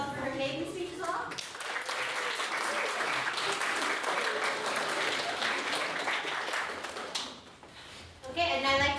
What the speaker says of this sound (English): Can we get another round of applause for her maiden speech as well?